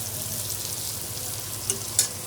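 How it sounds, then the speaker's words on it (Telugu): Vegetable biryani ingredients fry in mustard oil with a steady, close sizzle and faint stirring, including a couple of brief louder crackles. "పచ్చివాసన వెళ్ళిపోవడానికి కొంచెం ఫ్రై చేసుకుందాం."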